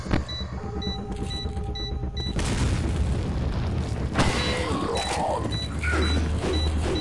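An explosion in the video game Resident Evil 4 hits as a loud, sustained broadband roar of blast and rumble. It follows a quieter stretch of game ambience and mechanical tones.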